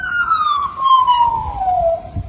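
An Australian magpie gives a siren-like call: one long, loud, wailing tone that slides slowly downward with bright overtones, lasting about two seconds, heard alone without talk.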